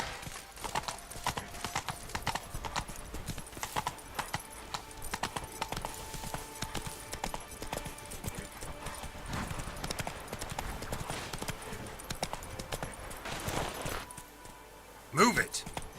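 Roach the horse in The Witcher 3: Wild Hunt, Blood and Wine, galloping with fast, continuous clip-clop hoofbeats throughout, a brief louder burst near the end, and a voice speaking over the hooves.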